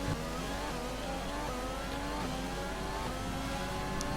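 An F1 race car in the F1 video game runs a qualifying lap, its engine a continuous high-pitched whine climbing and shifting through gears, loud and close with no voices over it.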